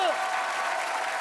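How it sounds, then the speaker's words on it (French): A short burst of audience applause fills a TV studio, moderately loud and steady, with a voice briefly heard at the start. "On peut applaudir Rose, mesdames et messieurs."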